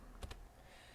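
A couple of quick keystrokes on a computer keyboard while a number is entered, two close clicks near the start and then quiet room tone.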